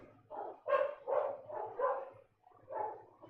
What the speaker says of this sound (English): And Fibonacci are barking